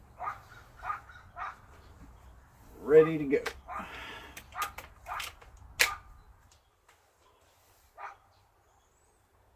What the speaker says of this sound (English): Wish that dog would shut up.